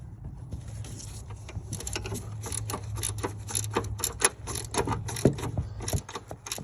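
Quick clicking ratchet wrench turning strut bolts on a Buick Rendezvous during a front strut replacement, a close run of sharp metallic ticks in uneven bursts over a low steady hum.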